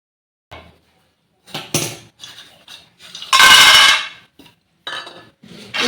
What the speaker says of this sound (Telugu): ఈ చట్నీకి అయితే శనక్కాయ విత్తనాలు వేపుతున్నా.